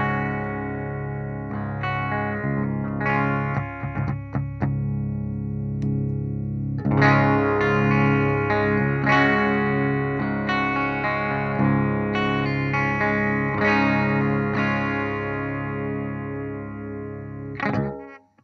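An electric guitar runs through a Redbeard Effects Angry Rhubarb overdrive pedal, strummed chords and single notes with a gritty, slightly hairy drive, continuous and close, a short pause early on, then fuller ringing chords that cut off at the end.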